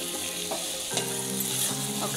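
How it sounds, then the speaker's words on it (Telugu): Gongura chicken stirred in a hot pan, loud steady sizzling with spatula scrapes and clacks recurring every half second or so, close and unaccompanied by speech. "ఒకసారి ఇలా కలుపుకొని"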